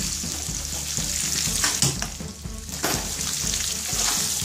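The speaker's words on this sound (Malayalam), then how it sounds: "നല്ലപോലെ ഒന്ന് ഫ്രൈ ചെയ്തെടുക്കണം അപ്പോൾ ഫുൾ ഫ്ലെയിമിൽ തന്നെ ഇത് ഫ്രൈ ചെയ്തെടുക്കുക" Onion, ginger and garlic fry hard over a full flame, a dense continuous sizzle close by with scraping stir strokes cutting through now and then, no voices over it.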